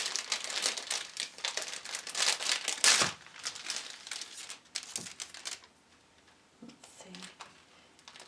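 A plastic case holding Princeton Neptune watercolor brushes crinkles and crackles loudly as it is handled up close, then the noise thins to sparse light clicks and rustles.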